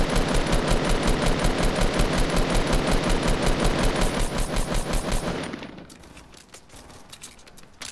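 Rapid automatic gunfire in Fortnite, aimed at a tree, rattles loud and steady for about five seconds, then stops abruptly, leaving quieter game noise.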